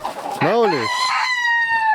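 A broody hen gives a loud, drawn-out call followed by a long sustained cry in a coop, close by with faint clucking in the background.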